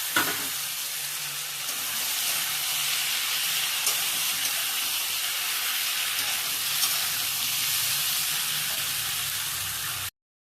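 Cauliflower fries in a pan with a loud, continuous, close sizzle that holds steady for about ten seconds and then cuts off abruptly.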